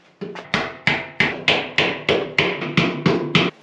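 A hammer taps a part into place on a DIY EFI fuel tank for an '87 K5 Blazer, about eleven crisp metallic strikes in an even, steady rhythm, close up with no speech.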